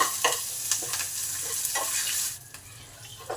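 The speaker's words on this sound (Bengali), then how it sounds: "কারি পাতাগুলো জাস্ট 1/2 মিনিটে ভাজা হয়ে যাবে, বেশি সময় লাগে না" Curry leaves frying in oil for a chutney, a bright close sizzle with a few stirring scrapes and taps, fading slightly toward the end, no voices.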